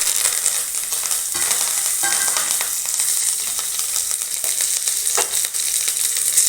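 Garlic and curry leaves fry in hot oil for a bitter gourd dish, giving a loud, dense, unbroken crackling sizzle close up, with faint stirring scrapes and no talk.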